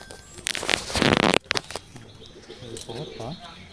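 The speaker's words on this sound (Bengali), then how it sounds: "এগুলো সব উড়ান পায়রা আমার" Madras flying pigeons burst into a loud, close flurry of wing flapping about a second long, followed by softer rustling and coos while someone talks.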